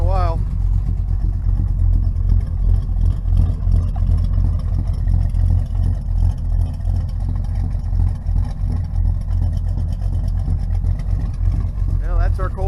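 A 1971 Chevelle without a choke runs just after a cold start, its engine rumbling loud and steady with small uneven surges, close up, as brief faint whines come and go.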